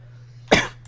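A voice mimics a single sharp cough, one abrupt burst over a steady low electrical hum, close and fairly loud.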